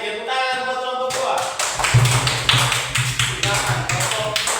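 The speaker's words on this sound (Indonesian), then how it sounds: "tepuk tangan buat kelompok 2" Classroom applause for a student group, a dense burst of clapping hands that starts after a second and continues steadily to the end, with a voice heard faintly under it at the start.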